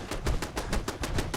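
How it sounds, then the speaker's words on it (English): Automated turrets in Fallout 4 fire a steady rapid burst, about ten evenly spaced shots in under two seconds, loud and close with no voices. "Seems like the turrets are really doing their thing, though."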